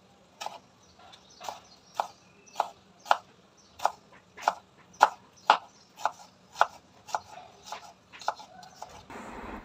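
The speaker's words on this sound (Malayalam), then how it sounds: "ഉരുളക്കിഴങ്ങ് മസാലയ്ക്കുള്ളതാണ് ഞാൻ ഈ അരിയുന്നത്" A knife chops vegetables for potato masala on a board, about sixteen sharp, evenly spaced cuts in a steady rhythm, close and clear, with no talking.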